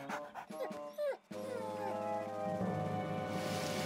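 A cartoon dog from Fireman Sam whimpers and yelps in short, high, wavering cries, then a loud sustained howl with musical accompaniment takes over.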